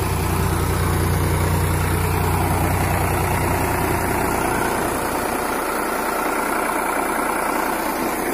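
A Sonalika or Powertrac 50 HP tractor engine idles steadily, a loud, close, continuous low diesel rumble that stays constant throughout with no voices.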